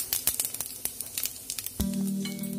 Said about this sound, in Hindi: अब हम इसमें डालेंगे जीरा